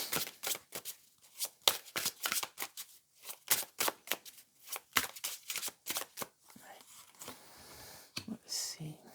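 A tarot deck is riffled and shuffled in quick, crisp bursts of flapping cards, repeated many times at close range, with soft whispered speech in the background.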